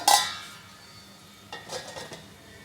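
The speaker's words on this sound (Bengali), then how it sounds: "এবার ঢাকা দিয়ে দিচ্ছি" A metal lid set down on a pot of neem jhol with a sharp clink at the start, followed by a faint simmer and a few softer rattles of the lid.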